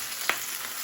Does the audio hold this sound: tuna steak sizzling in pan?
yes